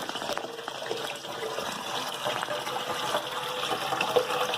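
Water splashes and gushes steadily into an aquarium through a water-change inlet, a continuous bubbly pouring sound close by with no voices.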